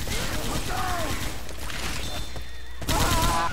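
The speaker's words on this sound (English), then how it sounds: "Y'all want to stop shooting?" Sustained M60 machine-gun fire in Left 4 Dead 2's Hard Rain campaign, a loud dense rattle running under game noise and voices, with a brief lull before the firing resumes.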